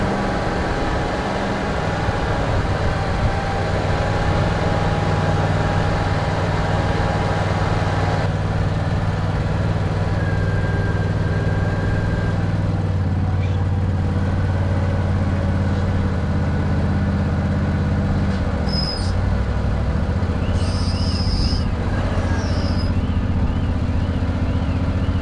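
Amphibious boat's engine runs steadily as the craft drives up out of the water onto its trailer, a continuous mid-low drone with shifting tones and a few brief higher squeals near the end.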